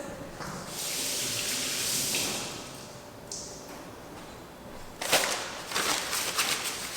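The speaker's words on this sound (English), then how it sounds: "let me wash my hands real quick" A kitchen tap runs while hands are washed beneath it, a steady splashing hiss with shifting gushes, louder bursts near the end.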